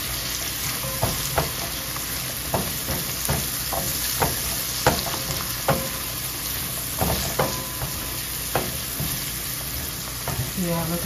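Kale soup cooks in a pot on the stove with a steady sizzle and bubbling, broken by faint clinks and stirring taps at an even, moderate level.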